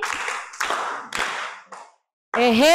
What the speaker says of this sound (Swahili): Mpigie makofi